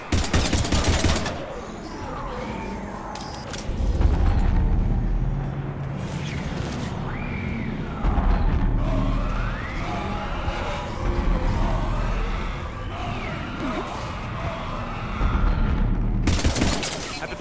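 Gunfire fills a firefight in the video game Mass Effect Legendary Edition, with loud bursts and booms at the start and end and scattered shots between, while game voices speak over it.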